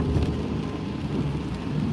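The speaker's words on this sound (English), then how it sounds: "Raining here." Steady rain pours down in a continuous, dense hiss with a low rumbling undertone, no voices present.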